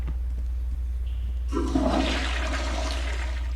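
A toilet flushes in the mobile horror game Mr. Meat 2, a sudden loud rushing swirl of water that starts abruptly and keeps gushing steadily to the end, with no talking over it.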